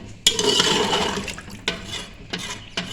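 Water pours into a pressure cooker for mutton paya as a loud, close, rushing splash lasting over a second, followed by a few shorter splashing bursts.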